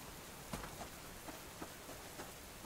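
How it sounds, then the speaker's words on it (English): Rain falls in the survival video game Subsistence, a faint, steady patter with a few sharper drops standing out, heard alone. "Need the rain."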